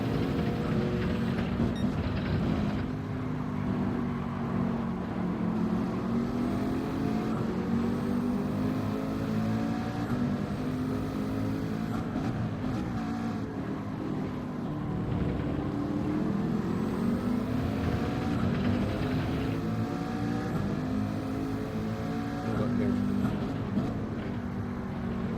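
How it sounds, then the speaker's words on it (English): An AMG car racing at Barcelona in a driving game, its engine droning continuously and loudly, pitch sweeping up and down through repeated acceleration and gear shifts. "That AMG is quick on acceleration, guys."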